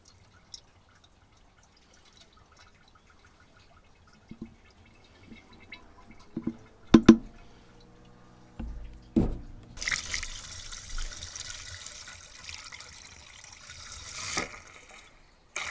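Antifreeze poured from a jug into the radiator of a vintage car, quiet at first with a few drips and clinks, then a gurgling splashing stream of liquid that continues unevenly until the end.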